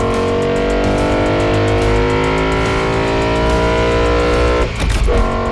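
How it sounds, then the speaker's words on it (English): A BMW E90 M3 with its V8 engine revs hard through the exhaust, a loud, sustained, rising and falling howl that carries unbroken for several seconds with a brief dip near the end. "the most haunting exhaust of any V8"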